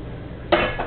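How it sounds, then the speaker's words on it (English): A 6-quart saucepan set down or knocked during blueberry jam making, one sharp metallic clank about halfway through with a lighter clink just after, over faint kitchen room tone. "Like a 6-quart saucepan."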